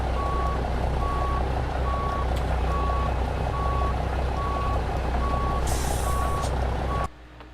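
An American Truck Simulator truck backs a trailer into a dock, its reversing alarm beeping at a steady, even pace over a constant engine rumble that cuts off abruptly at the end.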